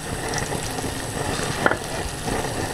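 Salted potato French fries frying in hot oil, a dense, continuous sizzle and crackle heard close up and alone, with one small sharp pop near the middle.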